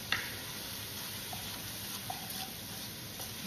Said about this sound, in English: so I'm just going to stir this up as it all continues to cook